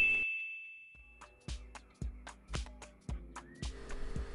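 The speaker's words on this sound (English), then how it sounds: "ring that bell to never miss a video again" A bright notification bell ding rings once at the start, followed by a series of sharp, evenly spaced percussive hits and whooshes, loud and close with no talk.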